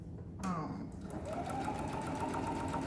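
Sewing machine stitching lines across a quilt block, a steady continuous mechanical whir running close and fairly loud through most of the clip.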